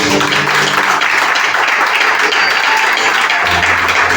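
A church congregation bursts into loud, continuous applause and clapping to acclaim the Lord during a service, filling the room with dense, close clapping throughout.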